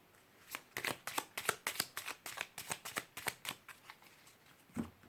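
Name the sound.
shuffling a Lenormand card deck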